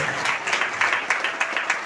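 Church congregation at a prayer ministry service claps in a quick rhythmic burst, many hands beating together in brisk regular pulses.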